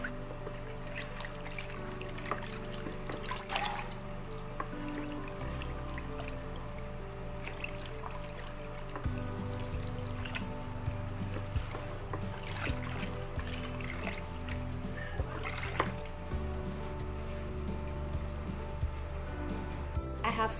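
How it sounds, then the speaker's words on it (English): An SLS liquid-soap mixture in about two liters of water is stirred, giving soft, close sloshing and squelching swirls with occasional drips and knocks, steady and low under a faint background hum. "the next thing I will do is to stir."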